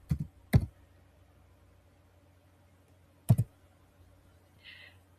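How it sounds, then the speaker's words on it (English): Sparse, close keystrokes on a computer keyboard: a few sharp clicks near the start, a single click later on, then a faint soft rustle, all in an otherwise quiet room. "So I am going to type in here account."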